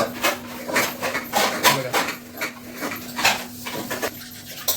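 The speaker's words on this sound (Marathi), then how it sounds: "भांडी वगैरे घासत आहेत" Dishes being washed by hand, with repeated clinks and clatters of pots and utensils in an uneven rhythm, fairly close against a quiet background with a faint steady hum.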